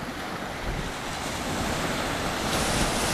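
Sea waves roll and wash onto a warm-water shore in a steady, loud surf roar, close by and mixed with gusty wind buffeting the microphone, with no voices.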